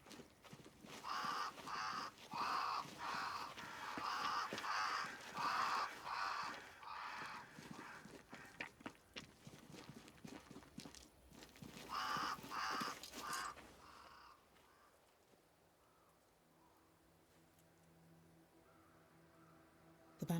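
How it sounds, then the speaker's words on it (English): A flock of crows caws in rapid, repeated bursts around a great tree in a video game, harsh calls overlapping for several seconds before thinning out to a quiet ambient hum. "Crows. They flock to that great tree up there."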